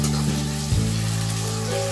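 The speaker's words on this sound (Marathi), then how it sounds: "हा बटाटा मी शिजवून घेतलेला होता त्यामुळे जास्त काही भाजायची गरज नाही, तर थोडासा तेलामध्ये परतून घ्यायचा आहे" Boiled potato and chilli sautéing in hot oil for sabudana khichdi, a loud continuous close sizzle with a brief stirring scrape partway through.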